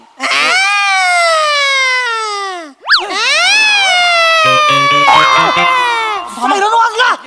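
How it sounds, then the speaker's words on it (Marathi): A loud wailing siren effect in a comedy skit, rising and falling in long sweeping tones, broken by a brief pause and followed by warbling, bleat-like wobbles. "सायरन वाजला"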